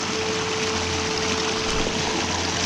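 A small creek in Oregon's Umpqua National Forest flows along a narrow side channel it has carved, giving a steady, close wash of running water with no break and no voices.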